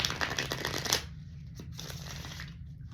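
A deck of playing cards being shuffled close up, a dense riffling burst for about a second that then gives way to softer, sparser card handling over a low steady background hum.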